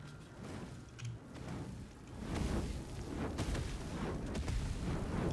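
Explosion in the video game Baldur's Gate 3, a sustained rumbling roar with crackling bursts that swells after the first couple of seconds and stays loud to the end, with no talking.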